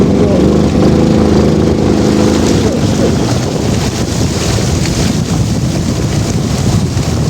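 Floodwater from heavy rain rushing down a channel from both sides in the countryside near Meknes, a loud continuous roar of water mixed with wind buffeting the microphone.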